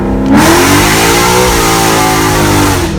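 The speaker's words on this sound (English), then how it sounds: "Another first gear pull, goes down." A Mustang 5.0 V8 roars loudly through a hard first-gear pull, its engine note climbing steadily in pitch for about three seconds, close and harsh, with no voices over it.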